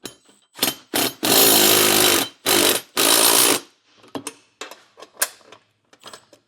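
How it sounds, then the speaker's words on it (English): Power tool with a 14mm socket tightening a nut on a Roadmaster Direct-Connect base plate kit for a 2025 Jeep, several loud buzzing bursts of whirring, followed by faint clicks and clinks of hand tools. "Now we can tighten that down with a 14mm socket"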